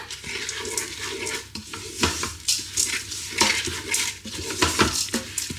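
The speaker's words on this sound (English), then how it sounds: "So now give it a good stir." Granola ingredients coated in olive oil stirred in a bowl or pot, with repeated scraping and clinking of a utensil against the side in an irregular rhythm, close up and with no talking.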